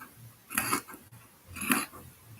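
Scissors snip twice along a curved chalk line in dress fabric for a homecoming dress, two short crisp cuts about a second apart, close and fairly quiet with no voices.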